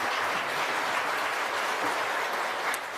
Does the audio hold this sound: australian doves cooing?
no